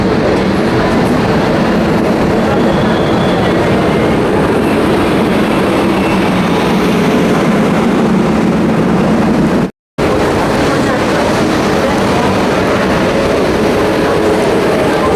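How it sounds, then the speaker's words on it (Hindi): The rear locomotive of an Amrit Bharat Express pulls in on the Brahmapur–Udhna route at Raipur Junction, a loud, steady rolling rumble with clattering wheels that runs throughout, broken only by one brief dropout. "और ये आ चुका है पीछे वाला लोकोमोटिव।"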